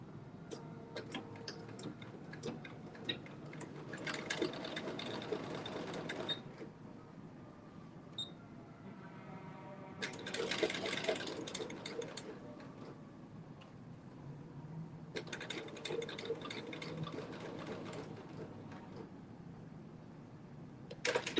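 A sewing machine runs a basting stitch across garment bodice pieces, with three bursts of steady mechanical stitching separated by brief pauses, heard close and alone without talk.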